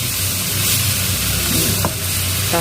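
A spoon stirs mushroom cream sauce with added stock in a pan. A loud, steady bubbling sizzle runs throughout, with scraping stir sounds, and no voices.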